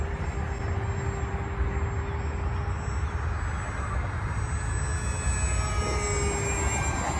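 An AeroScout S 2 1.1 m RC trainer plane flies inverted on a gloomy day, its steady motor drone heard at a distance, continuous and moderately loud with no talking.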